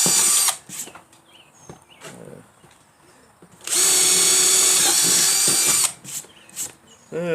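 A handheld power drill bores into MDF to make a speaker adapter, two loud, sustained whirring bursts with brief pauses and clicks between them, close by.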